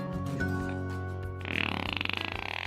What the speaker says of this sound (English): I meant to give you a fart sound.